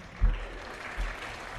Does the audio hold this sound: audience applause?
yes